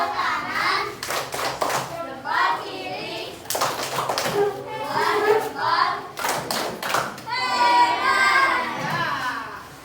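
Schoolchildren in an Indonesian classroom clap after a group presentation, with short bursts of hand claps breaking through and children's voices talking throughout.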